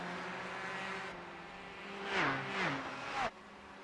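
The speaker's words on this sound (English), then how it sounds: "watching these cars race around at night is absolutely" Race cars circling Sebring International Raceway at night, a steady engine drone with rising and falling pitch as cars pass, closing with a sharp downshift before the sound drops away.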